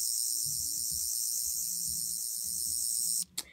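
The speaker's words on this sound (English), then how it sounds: "the first sound on this is a blue light" River Song sonic screwdriver toy in blue light mode, giving a steady, loud high-pitched whirring buzz for about three seconds before cutting off with a short click.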